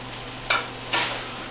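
Spinach sautéing in a little oil in a pan: two short, bright sizzling bursts, each fading quickly back into a soft, steady background hiss.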